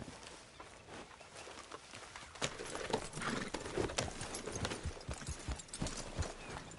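Horse hooves clip-clop at a steady walking rhythm in the Red Dead Redemption 2 video game, fairly quiet and close, with faint ambient background and no talk.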